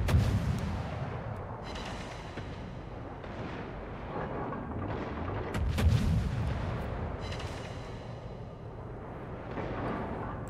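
A video game battle where a battery takes heavy artillery fire: dense, sustained booms and rumbling blasts roll on continuously and loudly, with a sharper crack partway through and no voices.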